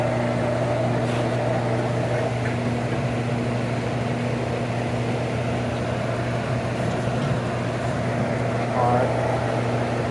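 A LANAIR MXD300 waste oil heater's oil transfer pump running, giving a steady mechanical hum with constant tones and no change in level, while someone talks over it.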